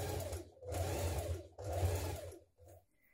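A sewing machine stitches a neckband to a dress neckline in three quick runs of steady motor whir, each stopping abruptly, with a brief fourth burst at the end.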